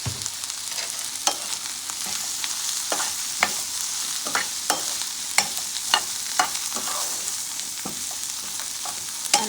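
Okra and turmeric sizzle in a frying pan while a spoon stirs and scrapes in repeated clicks over a steady close frying hiss, with no talking.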